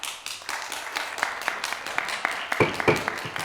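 Scattered applause at a city council meeting: a modest group clapping unevenly in a room, moderately quiet, with a few louder, closer claps toward the end.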